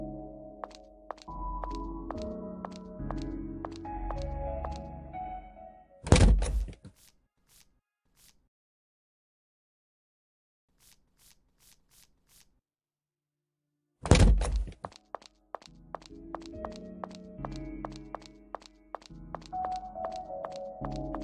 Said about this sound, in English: if you're going to destroy the place with your axe, then beat it!